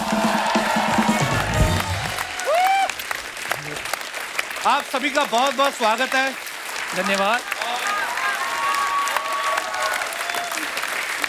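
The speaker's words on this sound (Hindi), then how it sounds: "जोरदार तालियां हमारे मेहमानों के लिए।" Studio audience of a Hindi comedy talk show applauds and cheers loudly for arriving guests, dense clapping throughout while a host speaks a welcome and thanks over it and whistles or shouts rise briefly.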